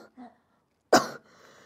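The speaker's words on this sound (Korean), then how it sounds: "한 번 터지면 쉽사리 멈추지 않는 기침." A single harsh cough from a middle-school student with allergic rhinitis, close and brief, bursting out of a quiet room after a faint earlier sound.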